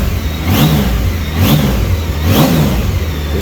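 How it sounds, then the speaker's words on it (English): A 2004 Honda Goldwing GL1800 touring motorcycle's smooth, car-like engine revs three times in a steady rhythm, each swell rising and falling over a continuous idle, close and loud with no talking. "Listen to when you rev this thing, how smooth it is"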